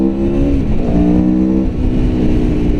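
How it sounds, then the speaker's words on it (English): A 2017 Aprilia Tuono V4 1100 motorcycle engine is held at full throttle, a loud, close, steady droning rev that hangs near the rev limiter and holds high, with no talk over it. "it really just cut me off at the RPM when I tried to give it full throttle"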